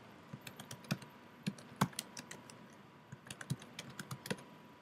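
Quiet typing on a computer keyboard: irregular clusters of light key clicks with brief pauses, close but faint, alone over a soft room hiss.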